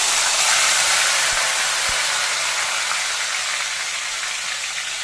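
Raw ground garlic paste for a garlic gravy hits hot oil with mustard seeds and fenugreek, a loud, close, continuous hiss of sizzling with a couple of sharp pops, no talking.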